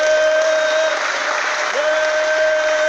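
A live studio audience claps in a steady, loud wash for a few seconds, with a sustained tone running beneath the applause.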